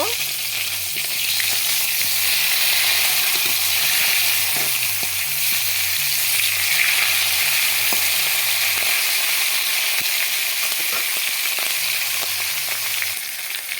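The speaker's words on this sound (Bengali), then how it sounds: "পাঙ্কাশ মাছগুলো ভাজা হয়ে গেছে নামিয়ে নিয়েছি" Pangas fish frying in hot oil produce a loud, continuous hiss and sizzle close by, with a rhythmic low thumping beat underneath for most of the stretch.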